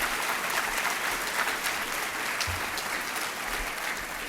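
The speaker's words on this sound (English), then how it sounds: "Let's give her a nice round of applause," A dinner audience at an awards celebration applauds a performer, steady dense clapping filling the room at a moderate level throughout, with no voices over it.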